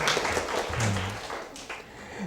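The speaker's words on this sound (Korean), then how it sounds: "박수 한번 쳐주세요." Applause from an audience during a university service-design class lecture: a steady wash of clapping that fades gradually toward the end.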